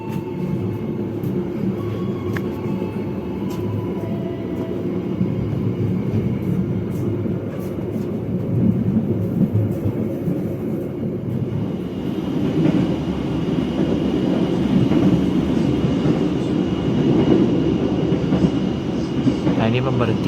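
A Motis passenger train departs Kroya station in Indonesia, a steady low rumble of moving railcars that grows louder and denser partway through, with faint talk beneath.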